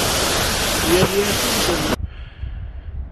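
Glacier meltwater rushes loudly near Ratti Gali in Kashmir, a close, steady roar that cuts off abruptly after about two seconds, leaving faint wind and background noise.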